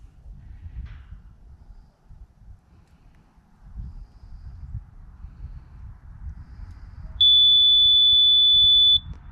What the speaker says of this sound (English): it should take about 20 seconds or so, and we should hear a beep.